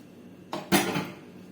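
The lid of a pressure cooker is opened after cooking mutton biryani, making two quick metallic clunks close by in an otherwise quiet kitchen.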